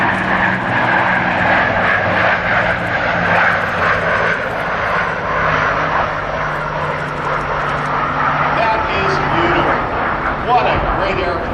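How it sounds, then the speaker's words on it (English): Piston engines of a Douglas DC-4 airliner at an airshow drone steadily and loudly throughout, a continuous propeller roar with a voice talking over it. "What a great airplane."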